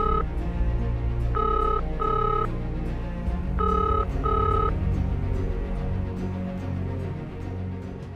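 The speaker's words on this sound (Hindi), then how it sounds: "तुम फोन क्यों नहीं उठा रहे हो?" A telephone rings in a TV drama scene, two pairs of bright electronic ring bursts in a repeating pattern over a low background music bed, with the ringing stopping midway.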